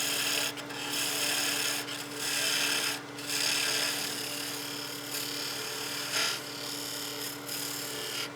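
Woodturning on a lathe, a tool cutting down a soft spalted wood tenon: a steady rasping, rubbing scrape with a low motor hum beneath, swelling and easing in a few passes throughout.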